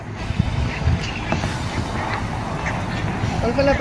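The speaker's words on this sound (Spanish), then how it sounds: "Pato." A duck quacks several times outdoors on the water near a kayak, short scattered calls over steady wind and water noise, with someone speaking nearby.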